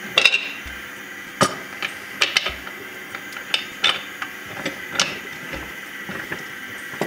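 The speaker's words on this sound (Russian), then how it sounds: "Вот теперь, друзья, мы закрываем наш афганский казан." A metal lid being closed and fastened on an Afghan kazan, a pressure-type cauldron with valves, holding hunter-style buckwheat: a close series of sharp metallic clanks and ratchety clicks at irregular intervals, with no voices.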